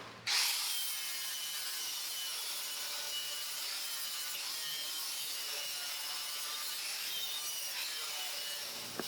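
A 4.5 inch angle grinder with a wire wheel strips paint from a Triumph TR4 panel. A loud, constant high-pitched whirring grind runs close up for the whole stretch, starting abruptly and holding steady.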